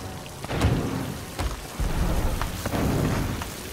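Thunder rumbles through a heavy rainstorm at sea in the pirate game Sea of Thieves, with loud low booms and crackling bursts over constant pouring rain and no talk.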